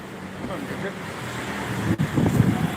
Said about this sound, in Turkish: Rüzgar rüzgar alıyordur bizim sesimizi ya